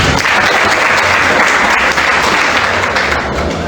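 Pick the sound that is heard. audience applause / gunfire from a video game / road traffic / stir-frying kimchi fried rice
audience applause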